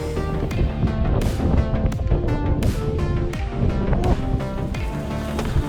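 Strong wind buffets and roars continuously, loud and rough, with gusty rumbling throughout and no voices.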